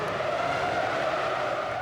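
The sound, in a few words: Formula 1 race cars accelerating away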